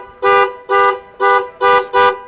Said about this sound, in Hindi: उसके अलावा हॉर्न हमने जो लगाया